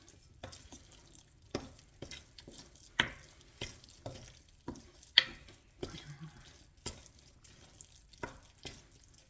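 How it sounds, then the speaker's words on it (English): Sourdough starter is stirred with water and salt for bulgar bread, a series of wet, sticky slaps and scrapes in an irregular rhythm, close and fairly quiet. "you stir it down, your sourdough, which I'm doing right now"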